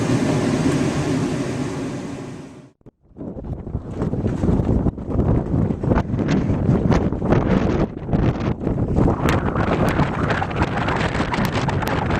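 Strong wind roars across the open Atacama desert, buffeting the microphone with steady loud rushing noise that drops out briefly, then returns with gusting bursts.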